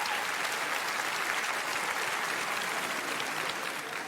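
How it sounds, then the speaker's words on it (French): A comedy show audience applauds on cue, dense even clapping filling the room at a steady level from start to finish without letting up. "qui a un iPhone dans la salle? Par applaudissement."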